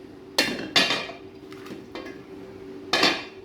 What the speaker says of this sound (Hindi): अब मैं कढ़ाई में चूल्हे के ऊपर रख दिया है